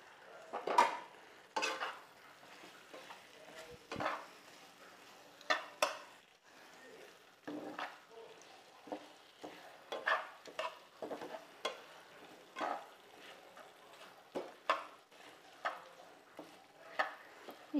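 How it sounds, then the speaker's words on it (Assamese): Fried chicken pieces stirred into chili chicken gravy in a pan, with repeated scraping and clattering strokes of a utensil against the pan over a soft sizzle, close and moderately loud. "ফ্ৰাই কৰি থোৱা চিকেনখিনি ইয়াত দি দিম।"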